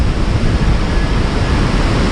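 Hurricane Zeta, a Category 2 storm south of New Orleans in Plaquemines Parish, roars as a dense, unbroken wind rush with steady loud buffeting and microphone wind noise, no voices.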